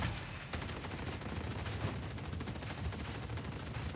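Sustained rapid gunfire from the Ogryn gunlugger's heavy weapon in Warhammer 40K: Darktide, a loud continuous machine-gun burst with dense overlapping shots and booming low end, no speech.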